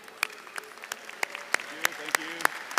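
Scattered, sparse hand claps from a commencement audience at the UTC 2018 spring undergraduate ceremony, honouring the staff. Roughly a dozen sharp individual claps fall at an uneven pace over a soft room background.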